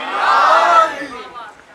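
A Muharram majlis congregation answers the Naara-e-Haidari slogan with a loud, unified collective shout that swells and then fades within about two seconds.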